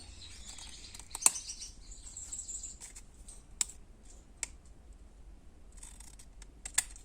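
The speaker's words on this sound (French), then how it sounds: "je place mon tag sur mon rectangle et je vais découper" Scissors snipping through a paper card during card-making, giving a few faint, sparse crisp clicks spread over a quiet background with no talk.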